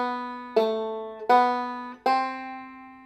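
Three plucked bluegrass banjo notes from "O Come, All Ye Faithful" ring out one after another, each with a sharp twangy attack and a slowly decaying tail, played slowly and alone.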